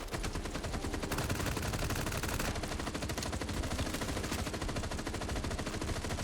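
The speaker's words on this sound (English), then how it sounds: "I'm gonna grab an SMG because it's gonna be hard to hit headshots" Rapid SMG gunfire from a first-person shooter, dense sustained bursts of automatic shots, loud and continuous with a brief change in tone partway through, no voices.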